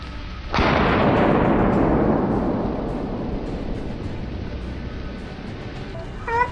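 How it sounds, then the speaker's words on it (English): A gunshot aimed at a giant wild boar on a hillside cracks loudly, then rolls into a long echoing rumble that slowly fades over several seconds, with a faint brief chirp near the end. "A series of shots rang out, aimed directly at the source of the smell."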